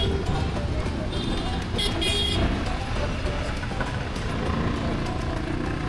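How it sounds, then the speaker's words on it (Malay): Many car horns honking in busy traffic, short toots rising over a constant engine and road roar, with people talking nearby. "Bunyi horn banyak."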